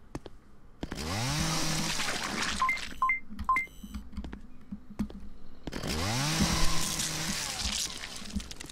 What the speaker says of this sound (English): Who's doing this chainsaw sound?